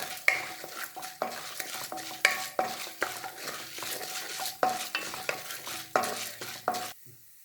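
Cashew nuts fry in a pan for semiya kichadi, a soft oily sizzle under repeated scraping stirs of a spoon against the pan, close and steady before stopping at the end.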